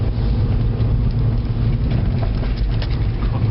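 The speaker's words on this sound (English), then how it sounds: "Quite a choppy road surface here, which is this firm suspension is toning up our bottoms." A Skoda Fabia vRS estate with the 1.4 engine, DSG gearbox and firm suspension drives over a choppy road surface, giving a steady, loud low rumble of road and engine noise throughout, with no talking.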